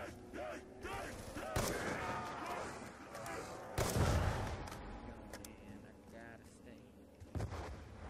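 Gunfire in Black Ops 2 Zombies, shooting at zombies on the Town map: scattered sharp shots and booming reports over a dense, noisy game mix, with voices talking throughout.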